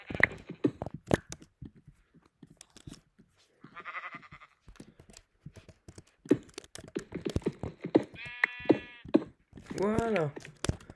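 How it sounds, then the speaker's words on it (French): Wavering sheep bleats from Minecraft, a few short calls scattered between bursts of talking and clattering sounds. "Ok, c'est le mouton."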